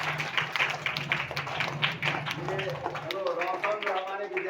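Village primary school children clapping together, a steady patter of many small hands that fades as a voice starts speaking over it.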